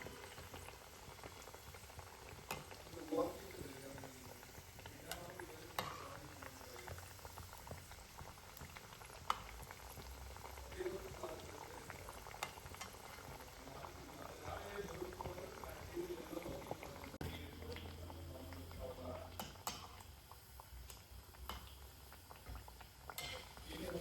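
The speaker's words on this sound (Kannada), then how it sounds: "ಫ್ರೈ ಮಾಡಾಕ ಸ್ವಲ್ಪ ಟೈಮ್ ಹಿಡಿತಿರ್ತದೆ" Maddur vada deep-fries in hot oil with a steady, busy bubbling and crackling fizz that runs throughout, and faint talk occasionally sits beneath it.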